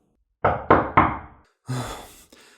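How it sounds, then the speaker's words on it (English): Three firm knocks on a wooden door in quick succession, loud and close, followed after a pause by a duller thud and a fainter bump; no voices. "She knocked on the door."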